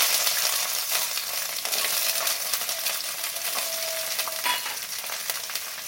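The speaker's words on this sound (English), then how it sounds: "Into this I'm adding about 250 grams of small onions," Small onions fry in hot gingerly oil, giving a steady, close, crackling sizzle throughout with small bursts of spattering and no talk.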